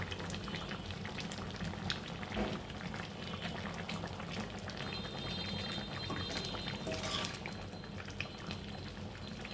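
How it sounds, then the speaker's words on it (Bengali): Fish roe kofta curry bubbles under a lid, a steady soft boiling patter with occasional pops, continuous and fairly faint, close by, with no voices. "বলক আসা পর্যন্ত অপেক্ষা করছে।"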